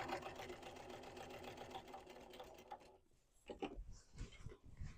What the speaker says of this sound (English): So I'm going to sew this at 1/8 of an inch down the edge and along the bottom.